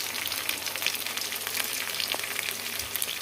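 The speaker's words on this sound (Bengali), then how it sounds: "ধীরে ধীরে চিকেনটা ফ্রাই করে নিচ্ছি" Chicken frying slowly in a pan, a close, steady sizzle with crackling pops throughout and no talking.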